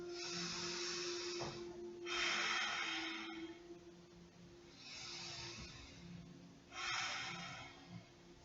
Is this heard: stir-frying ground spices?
no